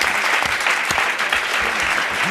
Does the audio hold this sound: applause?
yes